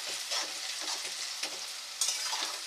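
Onions frying in a pan for a chicken and moong dal curry, a soft, continuous sizzle broken by rhythmic stirring scrapes, fairly quiet and without speech.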